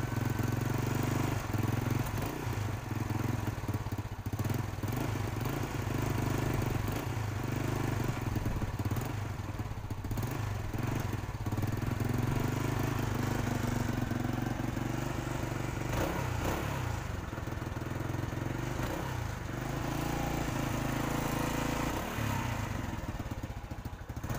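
A motorcycle engine idling after a dead spark plug was repaired, a steady mid-pitched putter and rattle that holds close and even for over twenty seconds with no talking.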